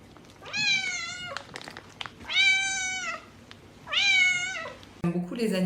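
House cats meowing, three long drawn-out meows spaced a second or so apart, close and fairly quiet over a low background hum, followed by a brief burst of other noise.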